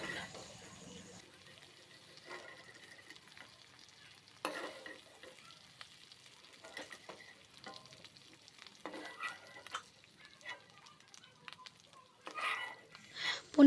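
Paneer cubes frying in a kadai, heard as a soft, intermittent sizzle with stirring clatter and scraping, fairly quiet with louder bursts toward the end.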